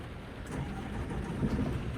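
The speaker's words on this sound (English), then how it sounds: "Start the engine." A bus engine starting up in The Bus driving simulator, a steady mid-low rumble that turns over and settles into an idle, fairly quiet and even, with no talk over it.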